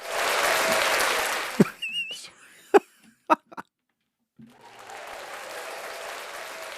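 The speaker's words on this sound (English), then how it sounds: "Have we got the applause sound effect? Oh my god, press it, go on." A canned applause sound effect is triggered on a podcast, a burst of clapping that stops abruptly, then short knocks and a pause before the clapping returns steady to the end.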